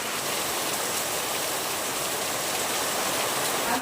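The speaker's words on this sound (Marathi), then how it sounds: "मस्त असा पाऊस पडतोय" Heavy monsoon rain pours down steadily, a dense, even hiss with no gaps, loud and close, with no voices over it.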